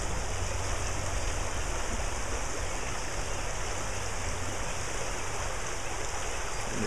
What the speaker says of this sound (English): Not a very wide creek, not very deep. The water's actually up right now.